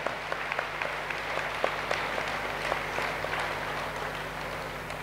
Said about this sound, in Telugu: ఒక్కసారి మరి గట్టిగా ఆ సిద్ధికి గట్టిగా చప్పట్లు కొడదాం.